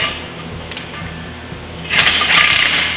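A socket wrench fitted with a 6-point socket turns a bolt during a shop safety railing build, giving a few faint clicks and then a louder burst of ratcheting toward the end.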